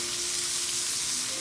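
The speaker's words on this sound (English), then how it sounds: "Our eggs are cooking." Eggs sizzle in a pan with a constant, even frying hiss, close and moderately quiet, with no voices over it.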